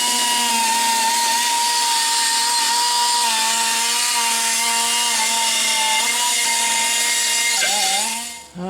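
A sanding disc grinds metal with a steady, loud whining grind and harmonic drone running continuously for several seconds, then dips and cuts off abruptly at the end.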